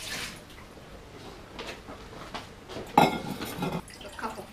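Water is poured into a pan or bowl while preparing sauce for Malaysian Hokkien Mee, a short splashing gush among soft kitchen clinks and light drips, fairly quiet.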